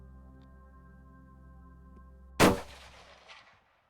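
A single loud rifle shot fired while hunting, a sharp crack over a quiet hum, then a rolling echo that fades out.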